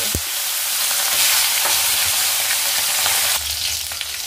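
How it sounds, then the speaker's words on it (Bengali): Steady, loud sizzling of fish frying in hot mustard oil, a continuous crackle with occasional sharper pops and no talking. "এইবার আমি মাছগুলোকে আগে ভেজে নেব।"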